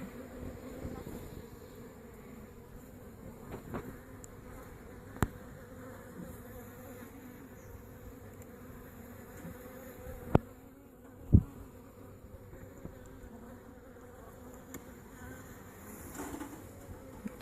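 Low, steady buzzing of many honeybees in an open hive, soft and continuous, with a few faint clicks and knocks standing out now and then.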